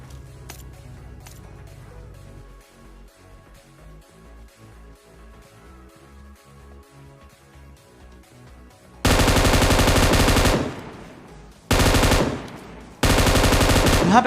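M249 machine gun fire in the PUBG video game. Faint game sounds give way to three loud, sustained automatic bursts, the first the longest, separated by brief pauses.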